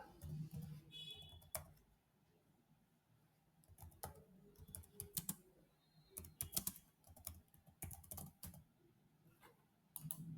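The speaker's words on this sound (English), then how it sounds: "So I'm going to type here" Typing on a computer keyboard, irregular bursts of clicking keystrokes coming close and fairly quiet, with short pauses between runs and no talking.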